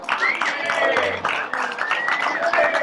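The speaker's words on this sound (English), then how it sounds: "How about a round of applause for Mike Garassino?" Applause for Mike Garassino at the Joe Garassino 6th Annual Golf Outing, a short burst of crowd clapping with voices and tonal sounds mixed in.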